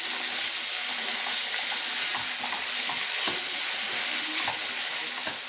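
Sliced onion and tomato sauté in a hot pan for prawn curry, a steady close sizzle with scattered pops and crackles running throughout, and no voices over it.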